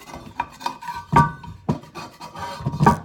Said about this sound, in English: So I'll just give that a bit of a scrape